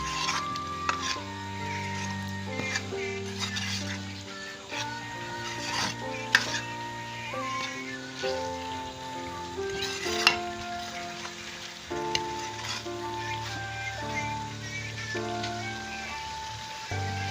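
Mutton liver (kaleji) sizzles and is stirred in a pan, street-food style, with a steady frying hiss and occasional scraping. Melodic background music plays over it throughout.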